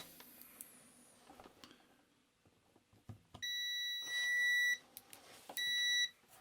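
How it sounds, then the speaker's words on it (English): Two steady electronic beeps from a multimeter on continuity test, checking between the base and top of a vacuum tube shield, the first lasting over a second and the second shorter, both clear and close, with faint handling clicks before them. "now what we want to do is check we have continuity between the base and the top"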